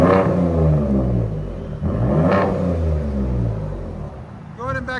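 Ford F-150 with the 3.5L EcoBoost and its muffler removed, its engine note a loud, steady droning rumble that swells up and down through the clip, with people talking over it.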